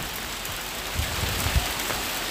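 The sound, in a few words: heavy rain falling outside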